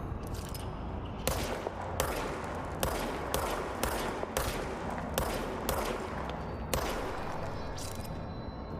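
Gunfire in the video game Control, with a steady run of sharp, loud shots spaced about a second apart over a low background hum, with no pause for reloading.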